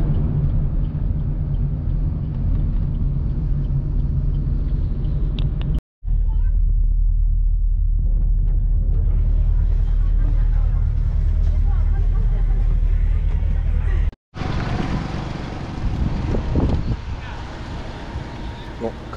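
Bus station ambience on a Ho Chi Minh trip: steady low rumble of idling buses and passing traffic, broken by two brief cuts, with people talking over it.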